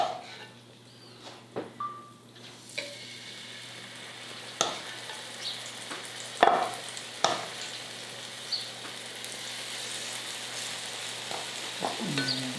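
Chicken tikka masala tenders fry in a very hot pan with a steady sizzle, broken by a few sharp clacks and scrapes as the pieces are moved, close up and with no talk.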